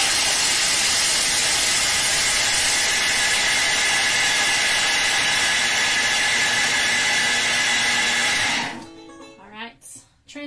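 A Thermomix grates cheese at speed 10: a loud, steady, high-pitched whirring roar runs for about nine seconds, then cuts off abruptly and a voice speaks.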